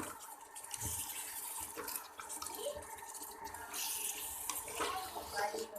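Water poured into a cooking pan of fried potato pieces and minced meat for aloo keema, a steady splashing pour with faint dripping, close by and fairly quiet, with no talk over it.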